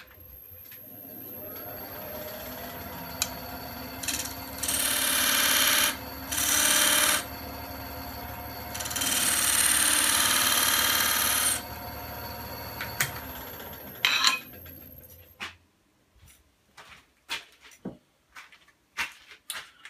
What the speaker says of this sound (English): I'm just cutting a dovetail tenon on this end with a skewed scraper held flat on the rest